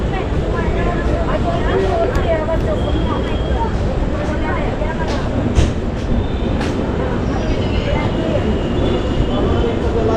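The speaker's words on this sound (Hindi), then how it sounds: "तो चलिए अब मैं आपको दिखाता हूँ हमारी ट्रेन का यहाँ से डिपार्चर।" Avantika Express pulling out of Borivali station in Mumbai, a loud, steady rumble of rolling wheels and carriage noise that continues without a break throughout.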